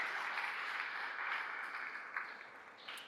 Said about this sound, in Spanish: Denle un fuerte aplauso a Cristo porque Él es muy bueno.